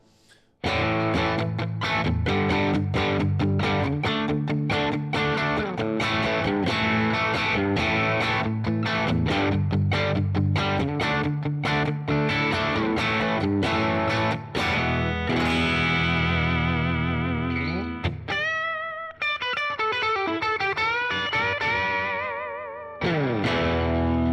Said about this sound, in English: That is 4 different guitars, all kinds of different sounds.